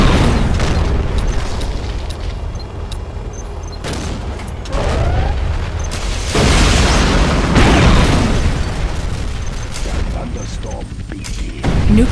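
Nuclear missile launch in the strategy game Command & Conquer Generals Zero Hour: a deep, sustained rumbling roar with booming bursts that swells and holds for several seconds over constant battle noise.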